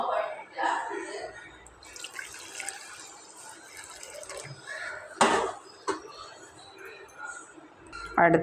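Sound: pouring strawberry jelly mixture into a bowl

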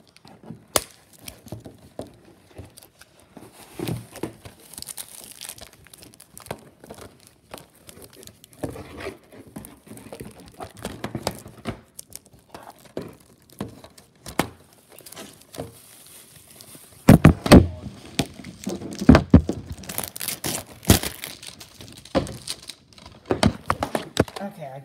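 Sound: unwrapping and tearing open DVD packaging

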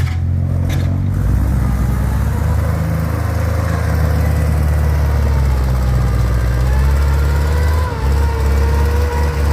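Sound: Kubota M6040 tractor engine

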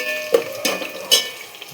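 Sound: green chillies frying in pan for chicken biryani

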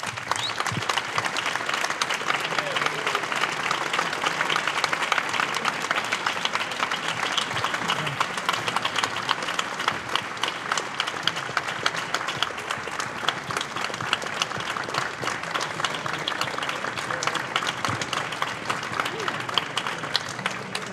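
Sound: audience applause for wind band musicians after concert

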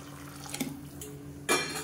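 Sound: hot water poured into boiling chickpea kulambu

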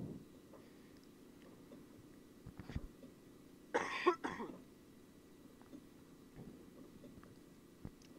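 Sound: cough

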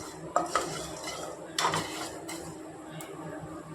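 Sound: mustard seeds crackling in a hot pan

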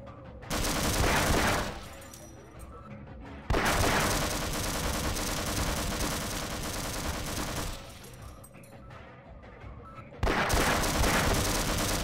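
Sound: turret gunfire in the video game Half-Life

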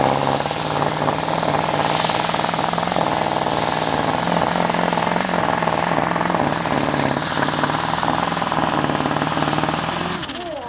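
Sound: Deutz V8 turbo diesel pulling tractor engine

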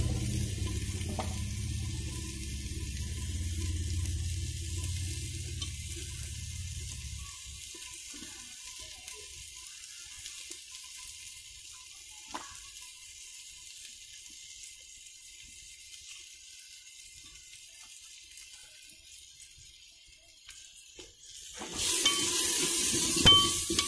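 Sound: masala spices frying and being stirred in a pan

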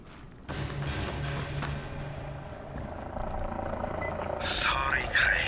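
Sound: helicopter in the video game Dying Light

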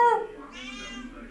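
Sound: cat meowing

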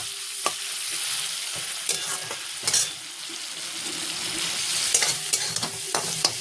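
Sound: spice masala being stir-fried in a pan

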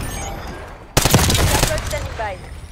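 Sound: Grekova gun with 60-round drum firing, Call of Duty Black Ops video game

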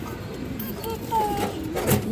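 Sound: pigeons cooing

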